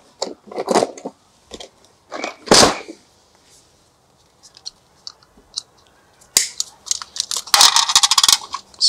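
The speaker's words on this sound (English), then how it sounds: "I'll get some pliers, cut this off, side cutters." Side cutters snip off hardware from a barn door: a few sharp metallic clicks and snaps spaced out, close and fairly loud, with some handling clatter in between and no talk.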